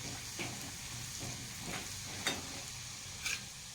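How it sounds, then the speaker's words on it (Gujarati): Garlic and chili sauté in hot oil, a soft continuous sizzle broken by a few brief stirring scrapes and spatters, faint and close with no talk. "તેલની અંદર આ રીતના લસણ અને મરચું સંતળાવા દેવાનું થોડું"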